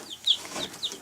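Young chicks in a brooder under a red heat lamp give a few high, thin chirps in quick succession, faint against a soft background hiss.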